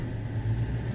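A combine harvester during wheat harvest runs with a steady, loud, low engine drone and a strong hum that continues throughout, with no talking.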